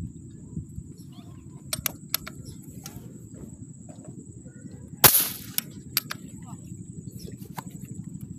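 A single sharp airgun shot cracks once, nearby, during an outdoor fishing hunt, standing out against a quiet background with soft ambient ticks and people talking around it.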